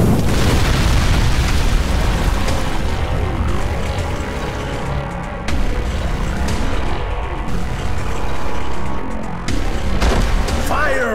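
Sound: meteor explosions in the video game Ninja Gaiden Z

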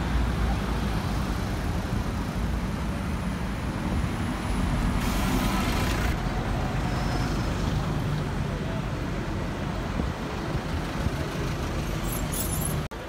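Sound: buses passing on Regent Street

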